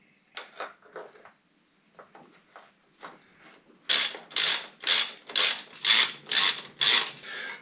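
A ratchet tightens the Torx brake caliper screws on a KTM Duke 790 motorcycle: soft clicking strokes at first, then a run of eight loud, rhythmic ratcheting bursts close by.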